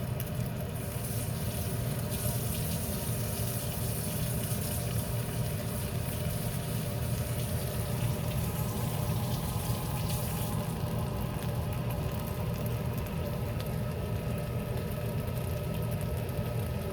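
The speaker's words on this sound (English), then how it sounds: "I'm going to wash my hands while you watch the bubbles." Tap water runs steadily during handwashing, a constant broadband hiss that stays level throughout with no talking over it.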